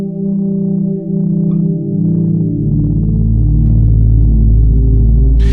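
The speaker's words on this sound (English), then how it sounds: "Literally clean bass into the MXR." A clean bass guitar played through an MXR pedal blooms into a smooth, reverberant ambient swell, sustained tones layering and rising into a thick, droning wash that keeps building in loudness.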